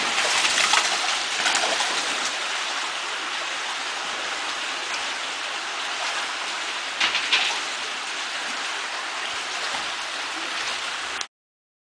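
Water pours steadily over a weir on Umbrella Creek during high water at sockeye spawning time, a continuous broadband rushing hiss with brief louder splashes, no voices.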